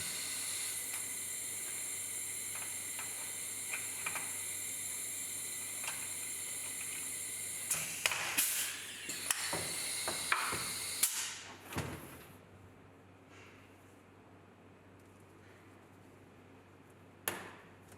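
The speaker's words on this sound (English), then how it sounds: "we use our CA64 riveting tool to set now-lock rivets on the text fixture" A Rivmate CA64 riveting tool sets steel dome head Now-Lock rivets, 4.8x10, into a test fixture with a 5 mm hole and 3 mm thickness. A steady background hiss runs throughout, with a cluster of sharp snaps and clacks midway and one more near the end.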